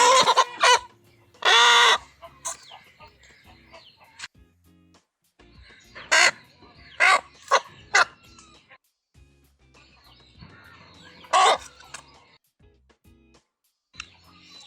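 A fighting rooster crowing and clucking in several loud bursts, spread out with quiet gaps between them, close by and with no talking.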